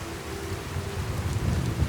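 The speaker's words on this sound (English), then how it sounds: "Lots and lots of rain." Steady heavy rain falls in the video game Skyrim, a continuous dense hiss with low rumbling underneath, no voices.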